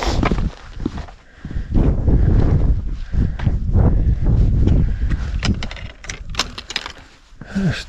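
Strong, steady wind buffets the microphone on the snowy summit of Guadalupe Peak, a continuous roaring rush with gusts that rise and fall throughout.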